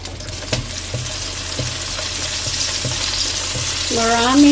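Plenty of chopped garlic frying in a pan while being stirred, a loud close sizzle with regular scraping strokes of a spatula, swelling into a hotter hiss at the end; no voices.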